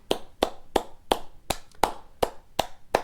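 Solitary clapping from one person with nobody else joining, nine crisp claps at a steady, slightly slow rhythm, close and clear against a quiet background.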